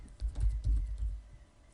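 Typing on a computer keyboard, a quick irregular run of soft close clacks and thumps that pauses briefly and then resumes with one more key press.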